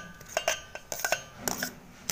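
Boiled moth beans, potatoes and vegetables being mixed in a bowl, heard as a series of close, light clinks and scrapes of a utensil against the dish, irregular and quiet, with no talking.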